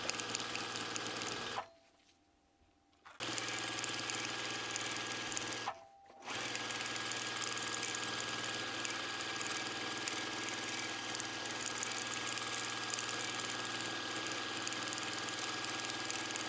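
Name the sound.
sewing machine stitching thread sketch of houses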